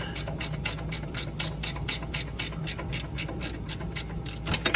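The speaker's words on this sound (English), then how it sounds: "Ratchet wrench works really good." A ratchet wrench backs out the drain plug on a Hustler Fastrak mower with a Kawasaki V-twin, giving a close, rhythmic run of rapid clicking strokes with no talk.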